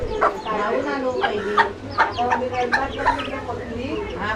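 Chickens at a village house clucking nearby in short, repeated bursts, with several birds overlapping against a low background hum.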